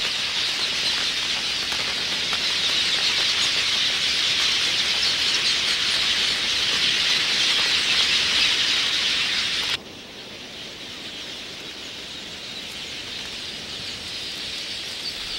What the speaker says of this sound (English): These birds gather in huge flocks, forming a cloud above the plains